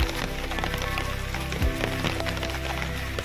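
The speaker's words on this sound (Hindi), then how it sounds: "बहुत ज़्यादा बारिश हो रही है।" Heavy rain pours down on a morning near Athirapally in Kerala, a dense, steady hiss and patter that holds level throughout, with no voices.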